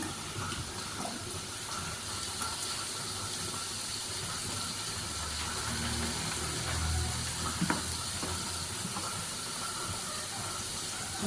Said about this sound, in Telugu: కొద్దిగా వాటర్ వేస్తాను